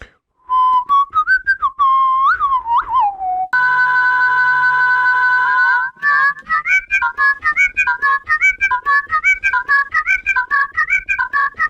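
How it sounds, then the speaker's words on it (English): A person whistles a bright, clear melody with sliding notes, followed by a long steady sustained tone and then a quicker rising and falling tune, recorded close and loud with no talking. "How about we do some like whistling or something more harmonic?"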